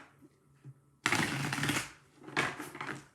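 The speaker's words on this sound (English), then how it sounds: "One more shuffle for you" A deck of tarot cards is riffle-shuffled close by. After a quiet start come two crisp bursts of rapid card flutter, the first longer than the second.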